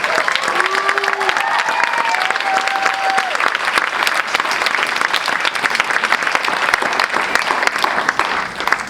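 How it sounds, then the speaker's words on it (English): Audience at a school band spring concert applauding the graduating class, a dense, steady wash of clapping from a large crowd that carries on without a break, with a few faint whoops early on. "Round of applause for them, please."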